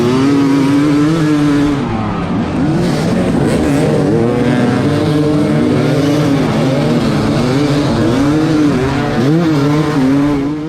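Race vehicles starting a Tough Like RORR off-road race produce a loud, continuous engine roar that rises and falls in pitch as the drivers rev and accelerate, with several motors overlapping up close.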